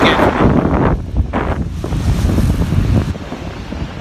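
Big sea waves surging at Selsey, a loud continuous roar of surf with heavy wind buffeting the microphone throughout.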